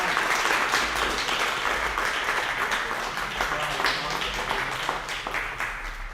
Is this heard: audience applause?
yes